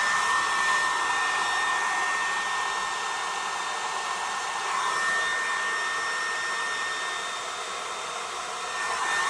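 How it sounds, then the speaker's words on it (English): A hair dryer fitted with a diffuser runs on a lower heat setting while drying hair, giving a loud, steady whooshing roar that holds constant throughout with only slight swells in level. "what I normally do now is go in with my diffuser"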